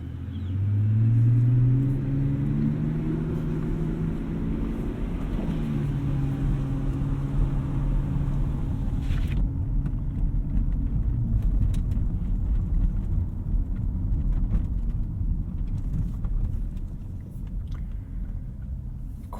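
A 2012 Mercedes-Benz S65 AMG with a V12 cruises on a highway, heard from inside the cabin: a deep steady engine drone and low road rumble with a rising rev early on, then a smoother, quieter hum as it settles.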